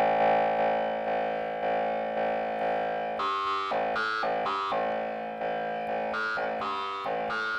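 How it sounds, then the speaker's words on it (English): A sustained Korg Volca Modular synthesizer drone with spacey spring reverb, its tone shifting and stuttering into choppy rhythmic bursts partway through. "you can adjust the level of that to get some fabulous spring reverb type effects"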